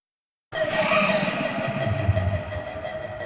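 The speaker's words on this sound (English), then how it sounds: "Reverberation as the subway pulls out." A subway train rumbles out of a station after a sudden start, its loud, reverberant roar and whine echoing through the tunnel and slowly fading.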